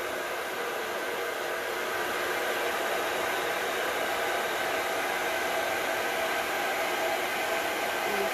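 Air is blown steadily onto poured paint on a pour spinner, a constant breathy hiss like a hair dryer that holds even and close for several seconds without voices.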